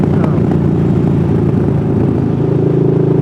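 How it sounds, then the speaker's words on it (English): A garbage truck rumbles past nearby, a loud steady low engine drone with a dense, even roar held for several seconds. "Yep, garbage truck."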